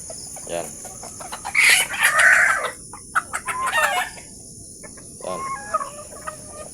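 Native chickens on a bamboo-built farm cluck in bursts while a rooster crows nearby, with crickets chirping faintly under the flock.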